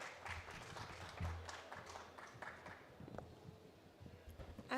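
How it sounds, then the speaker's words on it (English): An audience applauds at a jewellery fair event as a speaker is welcomed on stage, a soft, fairly distant patter of many hands that keeps going evenly, with a few sharper claps near the end. "Round of applause for Ms. Pallavi Mehra."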